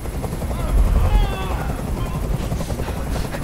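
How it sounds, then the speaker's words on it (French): A helicopter hovers close overhead in the video game Detroit: Become Human, giving off a loud, dense rotor thumping and engine roar throughout, with a voice speaking briefly over it. "Je ne peux plus supporter ce bruit Fais dégager cet hélicoptère, maintenant"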